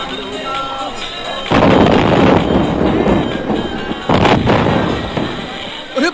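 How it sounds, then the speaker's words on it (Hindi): Firecrackers burst ahead of Diwali in two loud, broadband volleys of rapid crackling pops, one starting early and another later, over a steady rumbling background. "दिवाली आने के पहले ही पटाखे फूट रहे हैं।"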